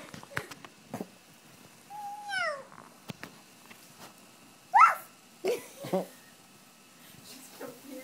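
A dog barks and whimpers nearby, mixing a rising, drawn-out whine with several short, sharp yelps. The calls come in scattered bursts with quiet gaps between them.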